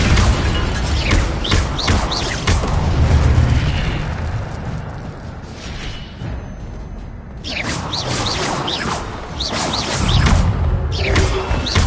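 Levioso spell cast in a wizard video game: a loud, dense magical burst and whoosh that swells, thins out for a moment, then surges back, with faint voices underneath.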